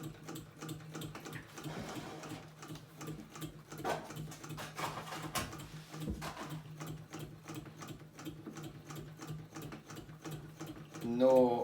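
Vintage sewing machine punching steadily through two and then four layers of upholstery leather, a fast, even train of mechanical ticks and clatter that holds its pace throughout, close and clear, with a brief louder burst at the end.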